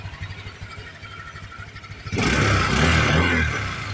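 A Honda Click 125 scooter fitted with a 59mm MTK big-bore block and stock exhaust idles steadily, then revs up sharply and holds a loud, sustained engine roar close by.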